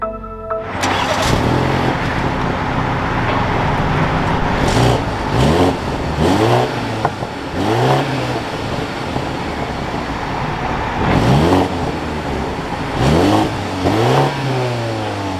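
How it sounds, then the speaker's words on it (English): A 2023 BMW X3 sDrive30i fires up with a sharp catch and flare, then settles into a steady idle punctuated by several short throttle blips, loud and close, with no talk. "Let's fire this X3 up though."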